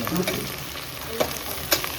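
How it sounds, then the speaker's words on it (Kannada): A pot of white mutton pulao being stirred at close range, with a steady soft frying sizzle and a few sharper scrapes of the spoon against the pot. "ನಾನು ಚೆನ್ನಾಗಿ ಅಲ್ಲಾಡಿಸ್ತೀನಿ"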